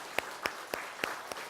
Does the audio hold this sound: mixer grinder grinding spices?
no